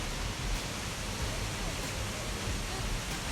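Water from McLean Falls in New Zealand rushes through a rocky chute, a steady broadband roar heard close and unbroken with no voices.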